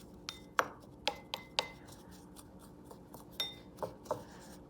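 Chimichurri sauce ingredients being stirred in a bowl, giving quiet, irregular clinks and taps of a utensil against the dish, close and fairly soft.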